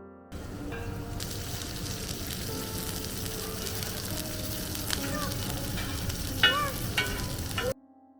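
Fish tawa fry cooking on a griddle at a food stall, a continuous close sizzle with occasional clinks and scrapes and faint voices in the background.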